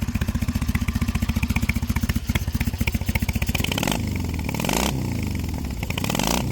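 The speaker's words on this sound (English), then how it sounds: "I do love the sound of a British bike." A British Triumph chopper motorcycle engine idles with a loud, close, steady thumping beat, then lifts into a few brief revs.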